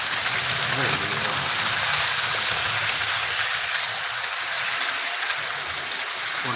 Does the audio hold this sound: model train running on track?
yes